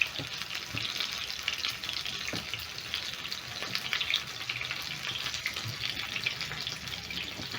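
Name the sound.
chicken breast frying in a pan for chicken katsu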